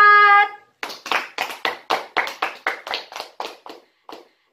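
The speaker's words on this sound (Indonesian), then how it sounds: "Tepuk tangan untuk kelompok 4." A classroom group claps together in a steady rhythmic burst of about a dozen sharp, even claps that slow and fade at the end, close and clear, after a brief sustained tone at the start.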